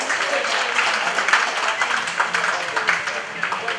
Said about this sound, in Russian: Аплодисменты Радмиру!